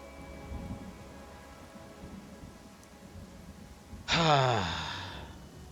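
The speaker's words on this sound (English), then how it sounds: "Really wish it wasn't raining." Soft steady rain hiss in the game Pathfinder: Kingmaker, then a sudden loud rumble of thunder that rolls and fades near the end.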